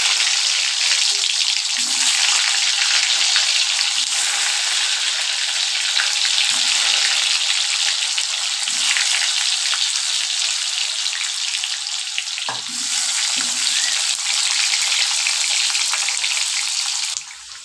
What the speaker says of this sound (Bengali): আলুগুলো এক সাইডটা ফ্রাই হয়ে গেছে, অন্য সাইডটাও পাল্টে দিয়ে ফ্রাই করে নেব।